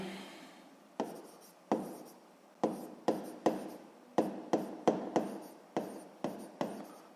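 Pen writing down a math solution on paper, a series of short distinct scratching strokes in an irregular rhythm, close, quiet and without talk.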